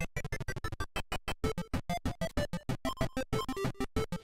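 Chiptune-style music from the Mario's Tennis game on Nintendo's Virtual Boy, a fast, steady stream of short, bright staccato notes in a regular bouncy rhythm, loud and continuous with no voices over it.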